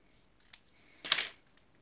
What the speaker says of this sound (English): Need to trim that off just a tad.